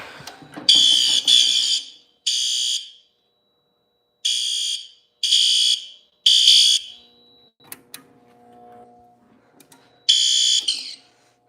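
A loud, shrill smoke alarm blares in repeated bursts with short gaps, followed by quieter handling noises before one final burst.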